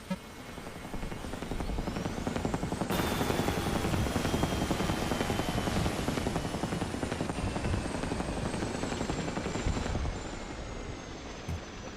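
A video game helicopter's rotor thumps continuously and loudly, with a rising engine whine and faint crackle of gunfire in the background.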